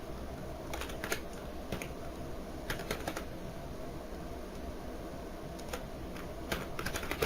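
Someone types a Debian Linux shell command on a computer keyboard: quiet, irregular clicking keystrokes in small bursts over a soft room hum, close by and without speech.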